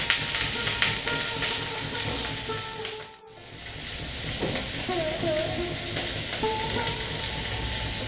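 Bottle gourd frying in a pan for a Bengali dry shukto curry, a steady close sizzle with scraping stirs and a brief dip near the middle before it resumes.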